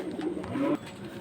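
High-flying Giribaz pigeons give a few soft, low coos close by, a brief murmuring call over quiet background with no talk.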